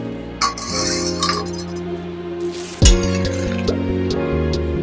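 A covering dish lifted off a pot of simmering snail and fig curry, with a light clink of dish against metal, then a sharper knock followed by steady bubbling and ringing tones from the pot, close.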